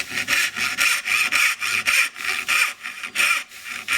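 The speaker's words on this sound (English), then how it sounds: "the whole time I'm sawing, I'm constantly stopping to blow the sawdust out of the way" A hand saw cuts through pine in steady back-and-forth strokes, each rasping pass loud and close, repeating in an even rhythm with brief pauses between strokes.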